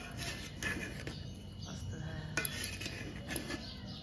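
Cutlery and dishes clink and scrape as biryani is served to everyone at a home birthday meal, with scattered light clatters under faint background noise.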